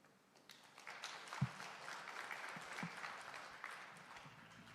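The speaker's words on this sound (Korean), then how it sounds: "다시 한번 박사님께 한 번 더 큰 박수를 부탁드립니다" An audience at a maritime and shipbuilding forum applauds after a talk, with steady moderate clapping from many hands sustained throughout, a few sharper louder claps standing out near the front.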